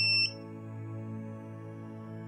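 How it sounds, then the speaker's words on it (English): A tommee tippee Perfect Prep formula machine gives one short high electronic beep at the end of its cycle, heard right at the start before a steady low mechanical hum carries on alone. "An amount of water will be dispensed and it will beep to finish the cycle."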